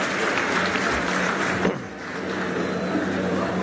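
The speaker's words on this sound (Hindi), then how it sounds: "जोरदार तालियों के साथ उनका स्वागत करें" Audience applause welcoming a speaker at a Congress party gathering, a dense steady clapping that fills the space loudly, briefly dipping before swelling again.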